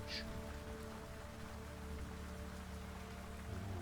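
Steady rain falls in a continuous soft hiss as background ambience for a tabletop role-play scene, faint and even, with a low constant hum beneath it and no talking.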